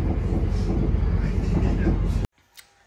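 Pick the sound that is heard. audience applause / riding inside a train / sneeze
riding inside a train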